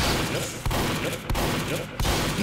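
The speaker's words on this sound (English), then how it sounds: "makes it really weak to fire your shotgun extremely long range" Pyro's shotgun in Team Fortress 2 fires three evenly spaced blasts roughly two-thirds of a second apart, punchy thumps set against a steady wash of game noise and a voice talking.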